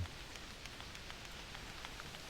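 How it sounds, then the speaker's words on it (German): Steady rain falls across the outdoor hunting landscape of theHunter Classic, a soft continuous hiss of drops with scattered faint ticks, even and unbroken throughout. "Ah, das regnet."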